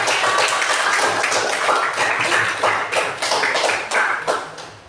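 Audience in a classroom or lecture setting clapping hands, a steady run of dense overlapping claps that rises and falls in waves for several seconds, fairly loud and close, with no talk over it.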